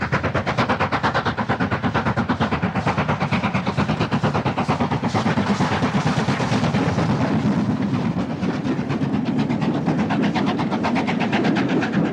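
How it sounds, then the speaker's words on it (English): An LMS Black 5 steam locomotive hauls a light charter of just two coaches past Glenfinnan toward Mallaig, its rapid, hard-driven exhaust beats pounding continuously and loudly close by, with no talk. "With a featherweight private charter of just 2 coaches, the Black 5 romps past Glenfinnan on its way to pick up a party arriving at Mallaig by boat."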